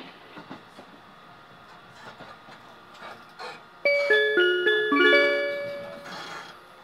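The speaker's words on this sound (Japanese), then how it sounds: "電車揺れます。" A JR Kishuji Rapid train bound for Kansai Airport rumbles along the rails while a bright multi-tone electronic chime rings out loud and close over the steady running noise.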